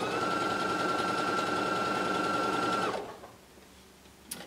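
A sewing machine stitches across a pumpkin fabric wedge, a steady close mechanical whir that runs for about three seconds, then stops, leaving quiet room tone and a small click.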